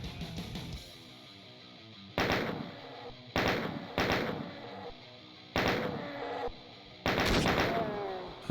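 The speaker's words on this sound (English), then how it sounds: "And now I should start using the chain gun a bit" Bursts of chain gun fire in Doom 3 ring out in five separate volleys of rapid, loud shots, with quieter background game sounds between them and no speech.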